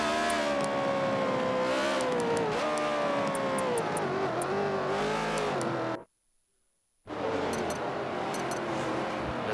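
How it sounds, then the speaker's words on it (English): Race cars scream at full throttle down the front straight at Sonoma in a NASCAR racing video game, steady loud engine roar with rising pitch, cut by about a second of silence before the roar resumes. "And then back on the throttle, full throttle, going on to the start finish line."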